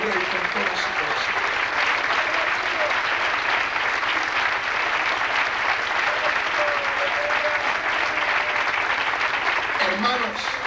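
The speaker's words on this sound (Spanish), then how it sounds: "aplauso al Rey con todo su corazón." A church congregation claps at length for the King during a sermon, a dense, steady wash of applause filling the room from start to finish, with a few voices calling out faintly beneath it.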